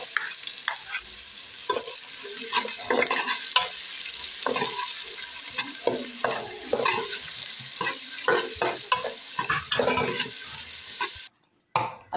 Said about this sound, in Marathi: हा कांदा आपण फ्राय करून घेऊया पहिले